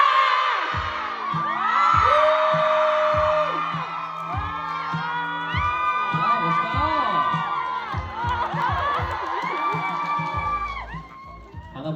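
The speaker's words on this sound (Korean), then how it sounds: "제가 신형 외치면 방원들이 나와라 외쳐주세요." A fan crowd at a K-pop idol's birthday fan meeting shouts and cheers loudly for the host, with whoops and overlapping voices filling a hall throughout.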